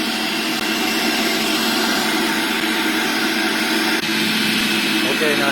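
A Breville 800JEXL centrifugal juicer's motor runs at high speed, a loud, steady, dense whirring roar that holds throughout without pause, close by.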